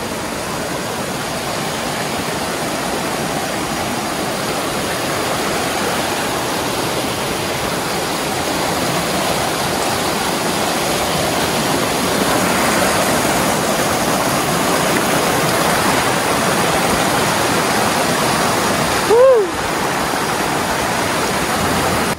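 Steady broadband rush of a river current flowing near Curug Kembang Mayang waterfall in the forest, continuous and close, with a brief brighter splash or chirp near the end.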